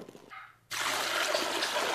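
Fresh octopus goes into a pot of water for blanching, with a short quiet lead-in before a sudden loud, sustained rush of splashing and bubbling water close by.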